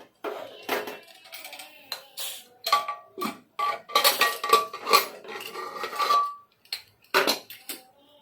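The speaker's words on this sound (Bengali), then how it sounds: "এবার কুকারটা খুলে দেখি কেমন অবস্থা" A metal pressure cooker of cooked rajma dal being opened in a home kitchen, with a run of sharp metallic clanks and clicks as the lid is handled, close and irregular, with quiet gaps between.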